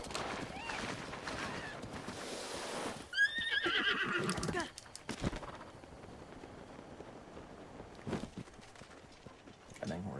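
A video-game horse gives a clear rising whinny after a stretch of hoofbeats, followed by quieter clip-clop steps, with people talking alongside.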